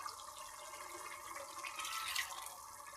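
Water is poured into a pot of chicken for Peshawari biryani, a faint steady splashing and trickling that swells slightly toward the end, with no talking over it.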